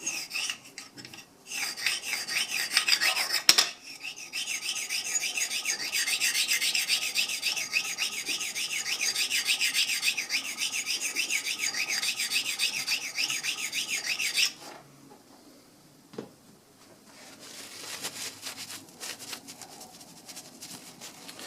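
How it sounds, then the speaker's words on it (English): A ceramic stone hones a 1911 pistol sear held in a stoning jig, making close, continuous rasping strokes for about thirteen seconds before dropping to quieter, intermittent rubbing. "I'm going to use this ceramic stone."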